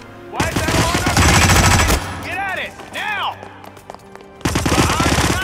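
In the video game Hitman, a gun fires two rapid automatic bursts of loud, dense shots with a brief gap between them, and a voice talks during the gap.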